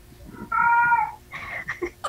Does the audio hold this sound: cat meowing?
yes